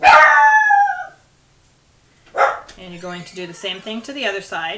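A dog lets out a loud, drawn-out howling bark close by in a quiet room, then falls silent while someone talks calmly through the rest.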